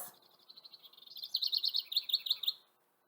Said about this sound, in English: So this is a house wren. If we hear a sound like this,